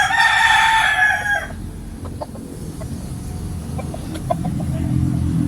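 A rooster crows loudly close by for a little over a second, then gives way to soft clucking and scattered chicken sounds over a low background rumble.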